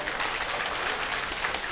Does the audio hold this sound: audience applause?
yes